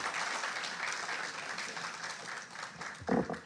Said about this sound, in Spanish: un aplauso para ustedes por acompañarnos